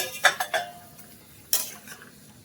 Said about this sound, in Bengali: আরও এক মিনিটের মতো হয়ে গেছে ডাকাটা সরিয়ে নেব